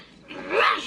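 A person imitates a dog bark, giving one short, rising bark-like yelp that swells at the end, close and fairly loud.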